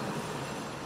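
Worn front wheel bearing on a Mini Cooper S grinding as the raised wheel is spun by hand, a continuous rough rumbling drone, steady and close with no talking.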